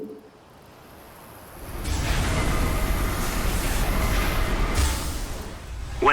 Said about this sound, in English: A train is coming through the western tunnel.